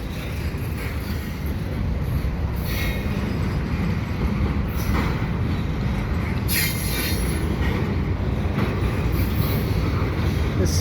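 CPKC intermodal freight train 119 leaves Dorval at Marshall Avenue. It rolls past close and loud as a continuous rumble of wheels on rail, with bursts of high wheel squeal and clatter throughout and no voices.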